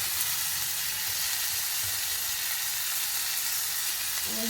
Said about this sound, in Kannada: ಫ್ರೆಂಡ್ಸ್, ಟೊಮೊಟೊ ಹಾಕ್ಕೊಳ್ಬೇಕು